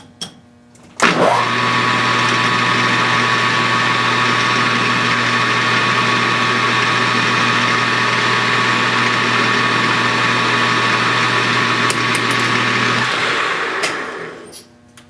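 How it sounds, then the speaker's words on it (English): A lathe spins up abruptly and runs at a steady, loud, humming whine while center drilling a piston ring blank, holding an even tone for about twelve seconds before winding down. "And what I'm going to do is center drill and then drill."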